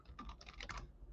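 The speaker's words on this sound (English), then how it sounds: "All right, done clicking." Quiet, rapid keystrokes on a computer keyboard patter in a quick, uneven burst, faint and close with no talk over them.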